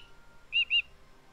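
Cheep, a bird companion in The Book of Unwritten Tales 2, gives two short, bright whistled chirps in quick succession, clear and fairly close against a quiet background.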